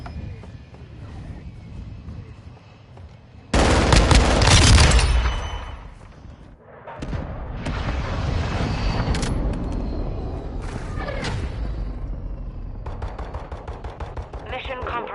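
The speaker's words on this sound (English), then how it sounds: "Hostile mortar strike in the area." Mortar strike explosions in the video game Modern Warfare 2: a loud booming blast burst, then a long stretch of rumbling impacts and crackling detonations of varying intensity.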